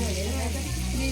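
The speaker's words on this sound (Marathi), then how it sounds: "सो इथे छान असं हे बोंबील फ्राय होत आहे." Bombil (Bombay duck) fish frying in hot oil, a steady close sizzle and crackle filling the whole moment at even loudness, with no one speaking over it.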